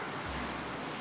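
Rain falling steadily on a green tea field at the foot of Hallasan on Jeju, a dense, even hiss of drops on leaves and surfaces filling the whole second without pause.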